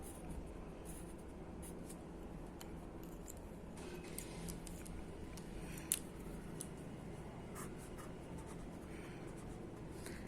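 Pencil scratching across paper, a quiet continuous scribble of short strokes with occasional taps, close and alone with no speech.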